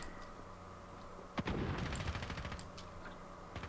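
Rapid automatic rifle fire from a FAMAS in a first-person shooter video game, a sharp burst of repeated shots starting abruptly and continuing in a dense stream for about two seconds before tapering off.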